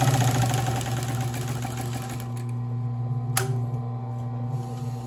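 A Consew industrial sewing machine with its motor stitches through denim, a steady loud mechanical whir and rapid needle chatter running continuously, close up, with a brief sharp click partway through and no talking.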